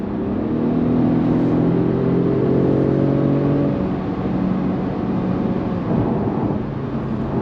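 A Mercedes-Benz E300 petrol saloon accelerates hard at full throttle, its engine note climbing steadily through the revs before easing off, loud and close with a smooth, rising hum.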